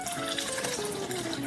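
Lukewarm water pours in a steady, close stream into a bowl of flour for pizza dough, a continuous bright splashing with a pitch that slowly drops as the level rises.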